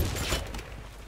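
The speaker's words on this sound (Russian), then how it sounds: "Откуда снайпер стреляет?" Sniper rifle fire in a Warface clan-war match, a loud close crack booming at the start and then a sustained rumbling tail of gunfire and echo fading over about a second.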